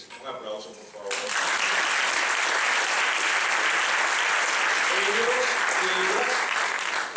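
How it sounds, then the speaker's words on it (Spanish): Audience applause at an evening university event, a dense, steady roar of clapping that starts after a second of quieter voices and carries on loudly to the end, with a voice briefly heard over it. "Un aplauso, por favor."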